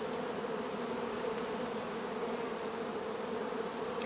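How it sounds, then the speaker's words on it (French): Honeybees hum in a continuous dense buzz from an opened hive being smoked during a honey harvest, steady and close, without speech. "Juste envoyer un petit peu de fumée sur le dessus pour faire descendre les abeilles."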